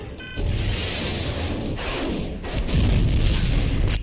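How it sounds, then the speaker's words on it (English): Torpedoes launch from a warship in Star Wars: The Clone Wars, a loud sustained rumbling whoosh that surges and booms, building stronger toward the end. "Torpedoes away."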